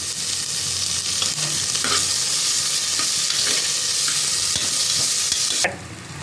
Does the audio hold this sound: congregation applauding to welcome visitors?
no